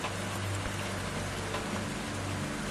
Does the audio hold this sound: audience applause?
no